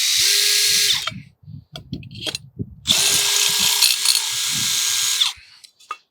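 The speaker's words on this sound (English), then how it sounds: "I can pilot these holes into the masonry" A power drill pilots screw holes into masonry for a flood barrier installation, two loud whining bursts of about a second and two and a half seconds, separated by handling clatter.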